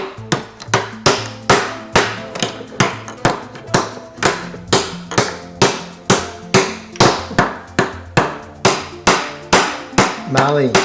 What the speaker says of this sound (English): No, Marley's going to hammer.